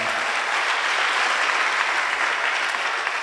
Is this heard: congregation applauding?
yes